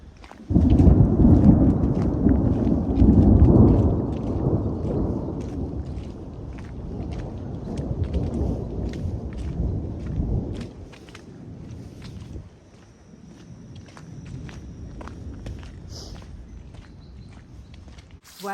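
A long, deep roll of thunder rumbles from a storm over the coast along the Rialto to Ozette trail, loud at first and then slowly fading into a quieter, distant grumble with faint rain and rustling.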